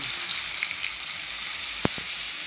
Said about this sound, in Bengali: আবার ভাজতে হচ্ছে অনেক লম্বা লম্বা বেগুনগুলো